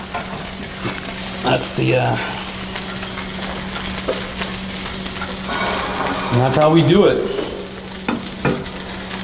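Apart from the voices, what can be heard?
food sizzling in a skillet with barbecue sauce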